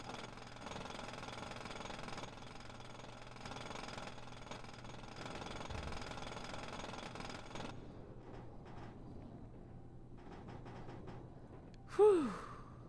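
A power drill rattles in a GTA roleplay game, a steady buzzing grind for several seconds that stops, followed by quieter bursts and a sudden brief vocal exclamation near the end.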